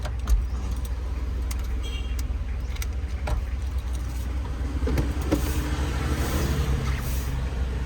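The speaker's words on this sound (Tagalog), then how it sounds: "hugutin nyo lang dito para ma-remove nyo yung susi" A car key rattles and jangles as it is worked out of the ignition of a Mitsubishi Mirage G4 that won't release it, with scattered clicks and a low steady hum underneath and no talking.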